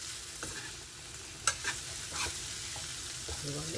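Carrot or beetroot fry cooking in hot oil in a pan, a steady low sizzle with a few scraping stirs and utensil taps near the middle, heard up close with a brief spoken word.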